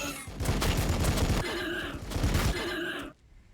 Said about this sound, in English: I think we've got to try for some shooting to weaken them.